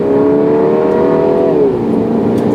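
2019 MINI Cooper S Countryman ALL4 accelerating hard from inside the car, its engine whine climbing steadily, then dropping at an upshift and pulling on, loud and continuous.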